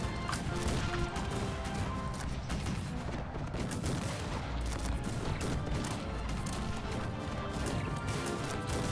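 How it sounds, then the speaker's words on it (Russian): Repeated booming artillery volleys from cannons in the strategy game Cossacks 3, dense overlapping blasts and crashes forming a continuous battle roar with no voices. "Так, артиллерия сюда, еще залп."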